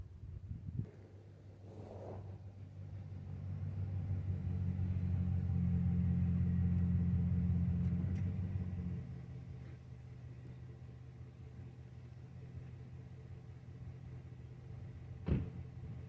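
A truck engine rumbling and revving up as it pulls on rod holders during a pull test, swelling to a strong low drone in the middle before easing back to a quieter idle.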